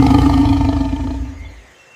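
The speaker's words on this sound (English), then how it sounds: "It is a lion, the king of the plain. The lion says roar." A lion gives a single loud, deep, rumbling roar up close that fades out over about two seconds, with no talk.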